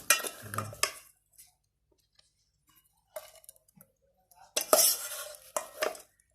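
Live dancing shrimp salad scooped onto a plate, with a few short bursts of wet clinking and scraping of a utensil against dishware separated by quiet pauses.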